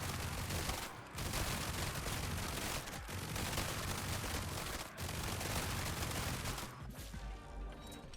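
Gunfire rattles in a roguelike game as a continuous dense stream of rapid shots, loud and sustained, broken by a few brief gaps before it resumes, with no voices.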